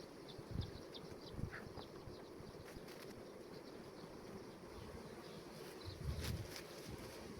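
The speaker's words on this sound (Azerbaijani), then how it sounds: "bütün arılar çıxır." Many honeybees buzz steadily around an open hive frame with brood and an isolated queen, a dense insect drone with occasional wing flutters passing close, and no talk.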